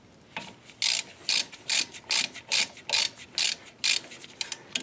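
A ratchet fitted with a 7mm Allen socket loosens the brake caliper bolts on a 2013-2019 Ford Escape, giving about ten quick, close bursts of sharp metallic clicking in a steady back-and-forth rhythm.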